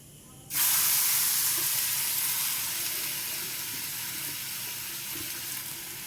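Grated potato and carrot drop into hot oil in a pan with cumin seeds, bursting into a loud, steady sizzle that holds close and continuous after a sudden start, easing slightly over time.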